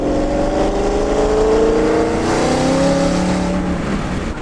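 A modified Ford Coyote V8 in a car revs hard and steadily, its deep, loud exhaust note rising and falling as the throttle is worked, close by with no talking.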